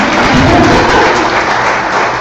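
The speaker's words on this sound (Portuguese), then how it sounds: "palmas para a Thaís também." Attendees at the final day of a political training course lecture applaud, a loud, steady, dense wash of clapping that carries through without a break and eases slightly toward the end.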